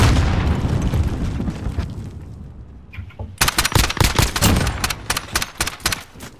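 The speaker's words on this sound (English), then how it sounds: "Cruise missile, go for launch" Cruise missile strike in a shooter game: a heavy rumbling blast fading out, then a rapid series of sharp explosive cracks and booms in quick succession, loud and close.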